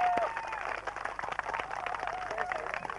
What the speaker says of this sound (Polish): dla Rafała za tą imprezę duże brawa się należą